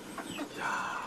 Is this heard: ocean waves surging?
no